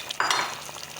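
Cauliflower florets and potato pieces tumble into hot cooking masala with a quick clatter, followed by a soft stirring sizzle. The sound is close and brief, with no speech.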